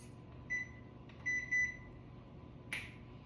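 A kitchen timer sounds a few short electronic beeps in quick bursts against a quiet room, followed by a brief sharp click.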